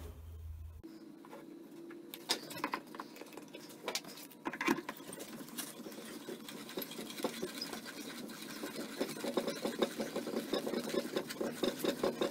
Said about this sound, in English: that's all the holes drilled in the bench top